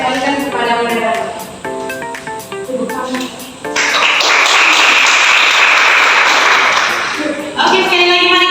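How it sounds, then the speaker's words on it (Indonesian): Applause for a presenter at an Indonesian educational talk on time management, a dense burst of clapping in the middle lasting about four seconds, with speech before and after it. "sekali lagi mari kita tepuk tangan"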